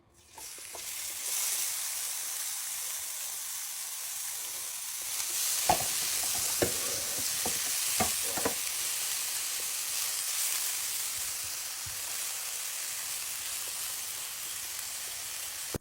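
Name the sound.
onion frying in oil in a Tefal pan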